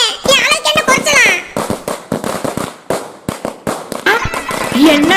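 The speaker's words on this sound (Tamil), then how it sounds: "அப்புறம் யாரு போய் மேல தரத்தோட பட்டாசு எல்லாம் போட்டு வெறித்தனமா வந்துகிட்டு இருக்கிறது?" Firecrackers go off loud and close, a rapid irregular string of sharp cracks and bangs, with voices calling out over them at the start and end.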